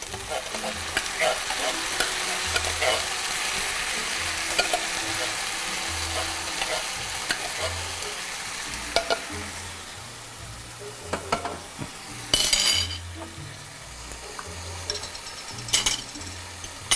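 Tomatoes frying in a pan alongside branzino, a loud close sizzle broken by repeated scraping stirs and a few sharp clinks of a utensil on metal, with no one speaking.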